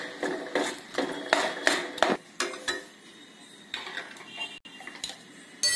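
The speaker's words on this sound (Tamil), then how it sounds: "இதை நல்லா மசித்து அதோட சேர்த்து கலந்துக்கணும்" Sweet potato halwa being stirred and mashed in a pan over a low flame, a spoon or ladle scraping and clinking against the metal in irregular bursts, fairly close, with no talking.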